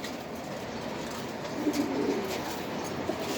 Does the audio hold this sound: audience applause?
no